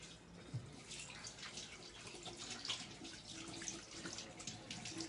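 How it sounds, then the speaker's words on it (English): A kitchen tap runs steadily as hands are washed, a soft, continuous wash of water with faint splashes, fairly quiet and with no talk. "Just going to wash my hands."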